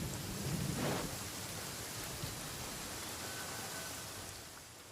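A thunderstorm in the game Genshin Impact: steady, dense rain hiss throughout, with a low rumble of thunder swelling early on.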